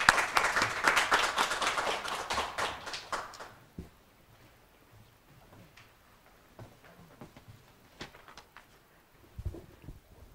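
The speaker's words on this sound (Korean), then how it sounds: "큰 박수 부탁드리겠습니다" Audience applause at a fintech regulation seminar and panel discussion, a burst of clapping that starts loud and dense, then thins out after a few seconds into sparse scattered claps in a quiet room.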